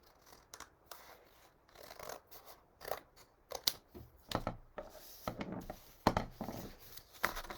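Scissors cut along a marked line on craft paper in quick irregular snips and crisp rustles, heard close and fairly quiet, with no talking.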